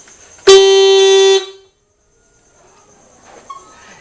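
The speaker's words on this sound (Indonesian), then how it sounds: "Klakson akan menyala terus dan engine nggak akan bekerja." A motorcycle anti-theft alarm horn gives one loud, harsh blast lasting about a second, then cuts off to near silence with faint background noise.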